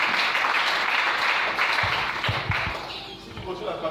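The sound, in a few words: congregation applauding in church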